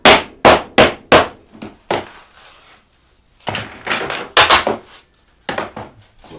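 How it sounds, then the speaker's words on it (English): A hammer taps a wooden quilter binding barrel in a woodturning shop, giving four quick, sharp knocks, then a few softer ones. A second burst of close, ringing blows follows after a pause. "just give it a little tap of the hammer"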